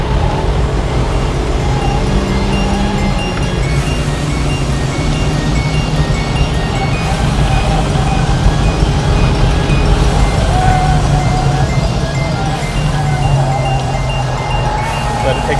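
Car engine on a race track during a real track day, a sustained droning engine note that rises and shifts through a gear change, with a driver and coach talking over it.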